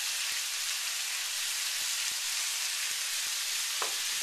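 Garlic and onion mixture sizzling and frying steadily in olive oil with the skins left on, a continuous close hiss with scattered soft pops and light stirring taps.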